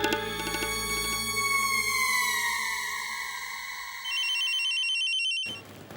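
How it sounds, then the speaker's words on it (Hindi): A telephone rings with an incoming call in a Hindi TV drama scene, an electronic ringtone with chiming, descending tones that cut off abruptly before a brief stretch of room sound, with no one talking. "लगता है कोई खास फोन आ गया"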